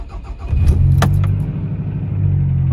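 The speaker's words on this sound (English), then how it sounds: "Let's go ahead and start the engine." A car engine with a freshly replaced timing belt cranks and catches from cold, then settles into a steady, close idle, with a brief jangle of keys at the start.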